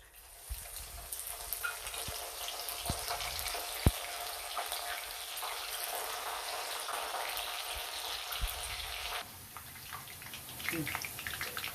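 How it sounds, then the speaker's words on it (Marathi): Vegetables deep-frying one by one in hot oil, making a faint, steady crackling hiss with a few sharp knocks, quieter and shifting near the end, with no talk over it. "आता मी ह्या सर्व भाज्या एक एक तळून घेते आणि बाजूला काढते."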